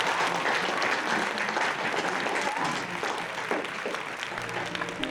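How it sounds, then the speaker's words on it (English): Workshop participants applaud Evelin after a dignity dialogue, a dense, fairly loud burst of many hands clapping that eases a little toward the end, with faint voices beneath. "Let's applaud Evelin."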